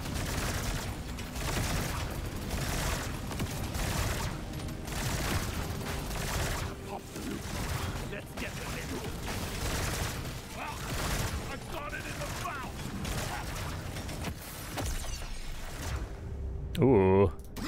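Rapid, dense gunfire rattles almost without pause in Deep Rock Galactic: Survivor, a constant barrage of shots with occasional mechanical clanks, a voice talking over it, and a brief burst of different effects near the end.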